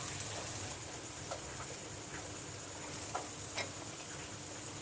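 Boiled pasta going into tomato sauce in a pan, a quiet continuous sizzle with a few faint ticks and scrapes, heard alone.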